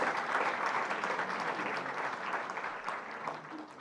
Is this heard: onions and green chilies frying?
no